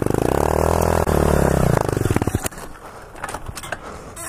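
A pit bike motorcycle engine buzzes loud and steady while spinning a donut, then sputters and cuts off abruptly, leaving scattered scrapes and clatter.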